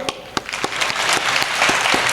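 An audience at a Gujarati motivational talk claps, starting with a few scattered sharp claps and quickly swelling into dense, sustained applause.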